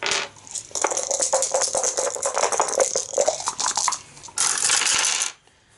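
Several dice rolled for an Arkham Horror board game, a dense rattling clatter tumbling across a hard surface for a few seconds, then a sharper final burst before stopping.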